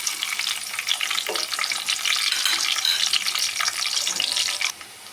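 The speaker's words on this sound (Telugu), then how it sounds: "చూడండి ఫ్రై అయిందిగా ఉల్లిపాయలు" Chopped onions and two dried red chillies fry in hot oil in a pan, giving a loud, dense, continuous sizzle that drops off abruptly just before the end.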